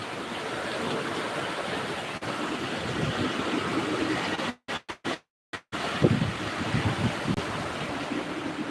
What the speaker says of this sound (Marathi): ओके तसलं पाणी चाललंय बघा धबधबा व्हायला लागला असं वाटायला लागलं